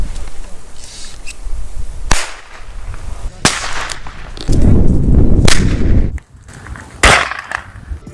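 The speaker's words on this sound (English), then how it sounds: "the safest way of producing a loud bang on the airsoft field for cheap" Several sharp, loud bangs from an airsoft sound grenade ring out at irregular intervals, with a rumbling burst of noise in between and a brief quiet gap before the last bang.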